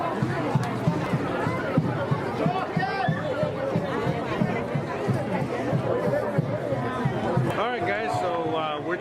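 Outdoor crowd chatter while walking with a throng on a trek: dense overlapping voices close and far, continuous babble with occasional louder calls and footsteps underneath.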